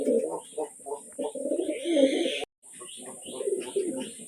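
A brooding pigeon sitting on its eggs gives soft, repeated coos close by, in low throaty bursts with a brief silent gap midway.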